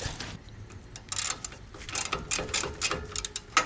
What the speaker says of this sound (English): Now let's tighten up the upper ball joint